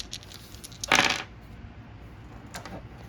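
Mutant Chronicles battle dice tumble onto a table in one sharp clattering burst, followed by a few fainter ticks as they settle, close and alone.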